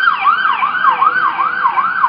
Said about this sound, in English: you have to have it really close to where there are sirens 24 hours